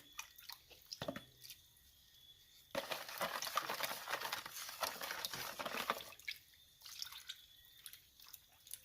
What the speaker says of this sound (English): I'm going to add the rest of my liquid.